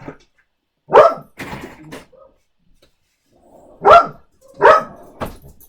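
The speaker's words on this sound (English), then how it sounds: "Hey, no barking." A dog barks in short bursts, a pair of sharp barks followed by a pause and then another pair, fairly close and loud.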